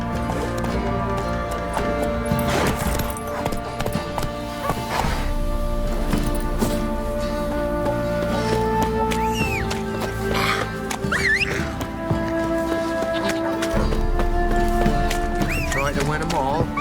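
Roach the horse in The Witcher 3 trotting with steady rhythmic clip-clop hoofbeats amid game music and ambience, a voice talking over it at times.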